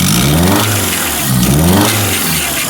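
A 2001 Honda Accord engine idling roughly and close up, its uneven, loping note rising and falling in irregular surges over a few seconds with no one talking.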